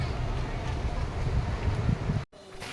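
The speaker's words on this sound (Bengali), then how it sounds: "সো গাইস এখানে ভীষণ হাওয়া দিচ্ছে" Strong seaside wind at dawn buffets the microphone with a loud, steady low rumble that runs almost unbroken and drops out briefly near the end.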